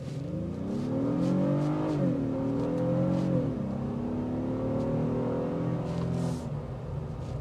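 A 2026 Honda Passport Elite with a 10-speed automatic accelerates on a test drive, its engine droning steadily and close, pitch rising and dipping through gear changes, with no voices over it.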